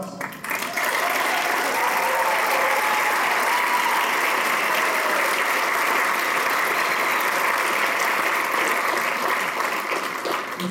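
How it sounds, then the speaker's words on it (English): Audience applause for seniors at a school band holiday concert, a broad, even roar of clapping that starts quickly and stays strong and steady for about ten seconds. "give them a round of applause"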